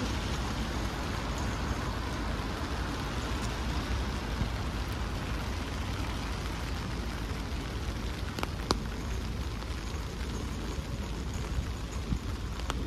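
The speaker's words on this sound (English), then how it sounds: "It's raining." Steady rain pours down continuously, a dense hiss of drops hitting surfaces, with faint traffic rumble underneath and no talking.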